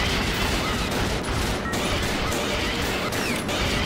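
Dense, continuous gunfire with crashing impacts fills the space while a player shoots at a giant scorpion in a video game, loud and unbroken with no pauses.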